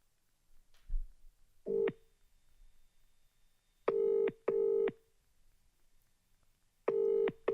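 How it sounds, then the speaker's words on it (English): Phone keypad dialing a call: a short tone, then a clear sequence of four loud, regular beeping tone bursts spaced apart, close and alone without talk. "Get the phone out now. Ring Kate immediately"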